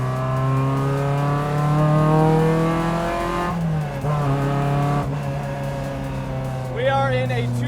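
A 2000 Lotus Exige S1 engine revving hard with a rising, droning tone, shifting pitch midway, then surging again near the end.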